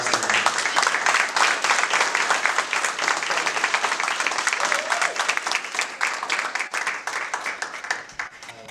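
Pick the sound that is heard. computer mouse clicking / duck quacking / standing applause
standing applause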